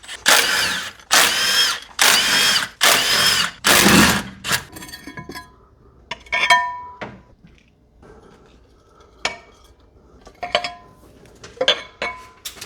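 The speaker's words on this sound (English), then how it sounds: "I'm going to pop the valve covers off next." A power tool runs in about five loud, steady bursts on the valve covers of a 12-valve Cummins diesel engine. Metallic clinks and clatter of parts being handled follow.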